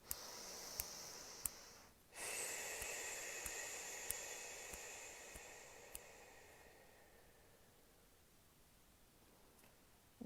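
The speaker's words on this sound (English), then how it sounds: "Exhale." A slow, deliberate breath pushed out during a calm breathing exercise, a soft airy rush that swells after a brief pause and then gradually fades over several seconds, close and alone without speech.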